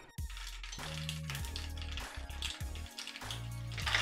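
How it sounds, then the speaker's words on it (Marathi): Two tablespoons of mustard seeds crackle in hot oil as tempering for bhajake pohe chivda, a steady close sizzle with dense popping and clinks of a utensil against the pan. "आता आपण फोडणीसाठी मोहरी घेतली 2 टेबलस्पून। मोहरी चांगली तडतडली"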